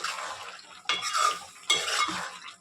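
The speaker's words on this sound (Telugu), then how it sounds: "కూరని ఇలా కలుపుకుంటూ ఉండాలి." A spoon stirs brinjal curry in a cooking pan in two loud scraping bursts, separated by quieter stretches of soft simmering and clinking.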